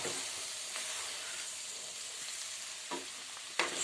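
Soya chunks being stirred into a spice paste in a pan, with a steady frying hiss and a few louder scrapes near the end, heard close and alone.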